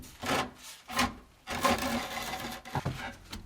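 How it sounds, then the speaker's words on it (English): A wire brush scrubs welds on the stainless exhaust of an Opel Astra K Sports Tourer 1.4 turbo, irregular raspy scraping strokes in short bursts, quiet and close. "I'll clean up the welds with a wire brush"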